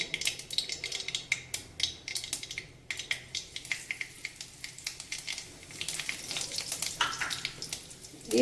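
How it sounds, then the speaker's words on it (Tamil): Mustard and cumin seeds crackle and pop sharply in hot ghee, a dense irregular run of snaps over a soft sizzle, with no talking. "இப்போ கடுகு வெடிச்சிச்சு நம்ம ஜீரகம் சேர்த்துக்குவோம்"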